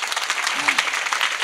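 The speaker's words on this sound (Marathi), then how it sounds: "तुम्हीच तुमच्यासाठी टाळी वाजवून घ्या एकदा आता" Crowd applause from an audience at an open-air kirtan during a Ganpati festival in Warud, held in the rain: steady, dense clapping throughout the short moment, fairly close and unbroken.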